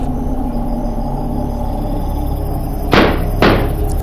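Two heavy booming blows strike a door as it is smashed in during an animated Hindi horror story, loud thuds with a rumbling crash about half a second apart over a steady low background.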